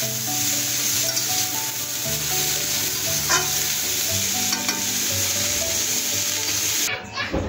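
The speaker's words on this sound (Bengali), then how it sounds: "তো সেটাই রান্না করছি, রুটি আর পাতাকপির ঘন্ট" Cabbage ghonto stirred and fried in a pan gives a steady, close sizzle with repeated scraping stir strokes throughout, and tonal hum and clatter in the background.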